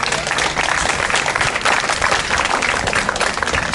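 Another round of applause from a crowd at a community justice gathering, dense sustained clapping that fills the room at steady loudness, with no talking over it.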